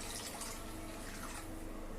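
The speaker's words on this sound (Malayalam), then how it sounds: "ഇനി ഇതിനകത്തിലേക്ക് ആവശ്യത്തിനനുസരിച്ച് വെള്ളം ഒഴിച്ചു കൊടുക്കും" Water pours steadily into a pan while making a Pathanamthitta-style fish curry, a soft continuous close splash and trickle that cuts off abruptly at the end, with no talking.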